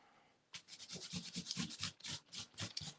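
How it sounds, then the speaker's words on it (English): Rhythmic rubbing strokes of a baby wipe scrubbing paint off a surface, about a dozen quick back-and-forth passes, close and fairly loud, with no talking. "perhaps let's just give that a baby wipe"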